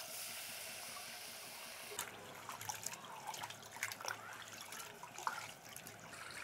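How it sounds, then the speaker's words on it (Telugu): Rice is washed by hand with water in a vessel, with quiet splashing, sloshing and trickling in irregular bursts at close range. "ఇది వేరే పాత్రలోకి వేసుకొని కడుక్కునేద్దాం."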